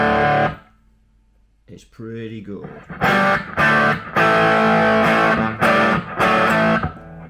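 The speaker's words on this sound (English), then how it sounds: "So the amount of distortion that we can get from this now," A restored WEM Dominator Mk3 valve guitar amp with a master volume channel mod, pushed into heavy, aggressive distortion. Loud sustained chords ring out in repeated bursts after a brief pause and a few muted notes, with a short spoken comment near the start.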